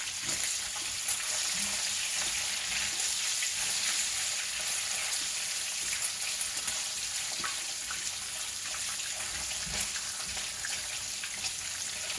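Bacon sizzling in a pan, a steady dense crackle and hiss that stays even throughout, fairly close with no talk over it.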